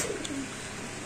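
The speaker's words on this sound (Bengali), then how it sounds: "এখানে আছে একজোড়া গররা কবুতর" Gorra breed pigeons at a market cooing softly, a faint low murmuring coo over a steady noisy background, very short.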